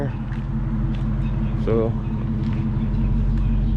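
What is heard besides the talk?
Dodge Charger being backed into the shop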